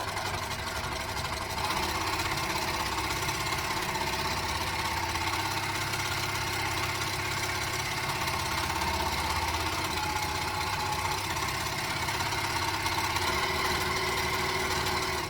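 A sewing machine stitches quickly through a single layer of fabric for a skirt, producing a steady, fast mechanical hum and rattle that runs unbroken throughout.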